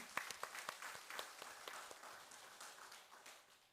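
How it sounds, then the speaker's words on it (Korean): Church congregation clapping during a Sunday service, a burst of scattered claps that thickens briefly and then fades, faint and distant. "우리 박수로 영광 돌립시다"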